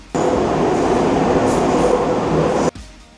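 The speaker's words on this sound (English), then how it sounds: "Like there's a lot of noise in the metro." A Milan M3 metro train running with its windows open, a loud steady rumbling roar with rail noise filling the carriage, cutting off sharply near the end into quieter interior sound.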